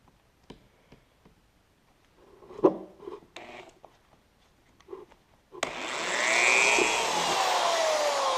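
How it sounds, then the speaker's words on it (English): A few quiet clicks and handling noises give way to a loud power drill whirring steadily as it bores through plastic. "I'm going to drill right through here."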